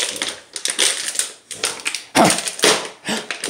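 A dog chews and pops a plastic water bottle in a game of keep-away, giving loud irregular crunches and crackles in bursts with brief pauses between them.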